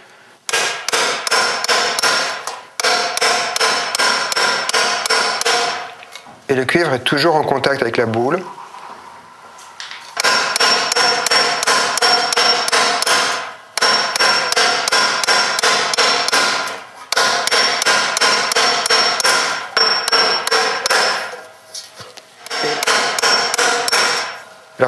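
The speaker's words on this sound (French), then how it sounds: "je pose le cuivre dessus comme ça, et je tape légèrement devant" Steady, loud bursts of hammer blows on annealed copper sheet held over a metal ball, fast rhythmic strikes in long runs separated by short pauses, with someone speaking between runs.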